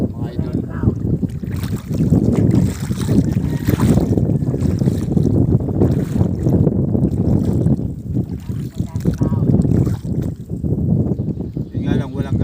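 Strong wind at sea buffets the microphone in a steady, loud roar, with someone talking over it throughout.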